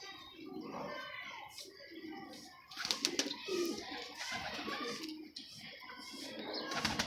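Pigeons coo softly in a loft while someone talks over them, with occasional fluttering and rustling close by.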